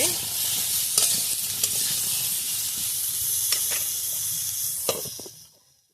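Wax apple chutney cooks in a pan while being stirred, a continuous close sizzle and hiss broken by occasional scraping knocks from the utensil, with the sound fading out at the end.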